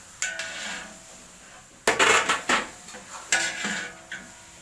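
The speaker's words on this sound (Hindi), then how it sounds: "वो इसमें चम्मच चला रही है" A spoon stirs chicken fried rice in a pan, with a brief soft scrape followed by a cluster of loud metallic clanks and knocks, then another burst of clinks and a final tap.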